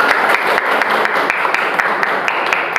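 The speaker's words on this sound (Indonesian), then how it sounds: "Tepuk tangan sekali lagi untuk" Loud, close applause from a group in a classroom or training session, a continuous dense patter of many hands with a few sharper claps standing out, sustained throughout.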